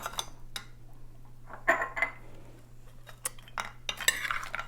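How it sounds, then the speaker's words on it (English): Utensils stir a panzanella salad with mozzarella pearls and bread in a bowl, giving soft, scattered clinks and scraping taps nearby against a quiet background. "And give that a stir."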